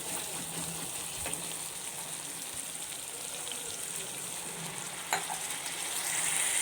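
Tomatoes sautéing in masala in a pan, a soft steady sizzle with occasional stirring clicks and scrapes, quiet and close throughout.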